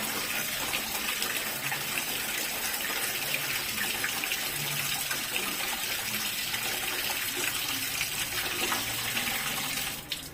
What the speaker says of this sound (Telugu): ఇలా బకెట్లో వాటర్ తీసుకోవాలి. దీంట్లో నిండా మునిగే వరకు వాటర్ని వేయాలి.